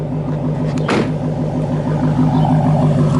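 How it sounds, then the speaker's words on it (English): A loud, deep engine rumble from a 2016 Dodge Challenger SRT Hellcat with steady low exhaust tones, a sharp burst of noise partway through, continuing to drone without talk. "I want you guys to hear these tailpipes go. They are so loud and so intense."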